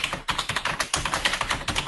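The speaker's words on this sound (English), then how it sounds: "I'm going to find out who's doing the typing" Computer keyboard typing heard over a phone line, a quick run of close, clattering keystrokes in an uneven rhythm, muffled and narrowband, with no talking.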